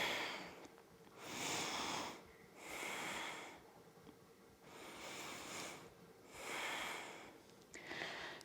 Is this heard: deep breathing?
yes